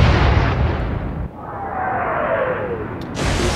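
A heavy naval gun fires in the Atlantic Fleet warship game, a loud booming blast trailing into a long rumbling whistle as the shell flies, then a second abrupt burst cuts in near the end.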